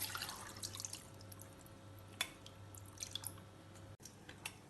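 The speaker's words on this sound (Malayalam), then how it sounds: "വേറൊരു ബൗളിന്റെ മേലെ അരിപ്പ് വെച്ച് അതിലേക്ക് ഒഴിച്ച് അരിച്ചെടുക്കാം" Water drains through a sieve into a bowl below while making custard apple falooda, giving faint, scattered drips and small trickles in a quiet kitchen, with no talk.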